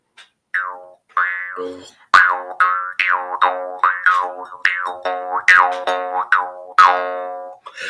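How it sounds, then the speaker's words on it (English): A string of twangy, springy sound effects like an archer loosing arrows, a dozen or so quick bouncing tones in rapid succession, loud and close with nothing else behind them. "It sounds like a sound effect of like a skeleton archer setting an arrow loose."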